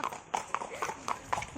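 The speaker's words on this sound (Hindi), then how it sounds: "हम लोग घोड़े में जा रहे हैं अभी।" Hooves of a horse clip-clopping in a steady walking rhythm on a ride up the trail at Matheran, India, fairly close, with faint background voices.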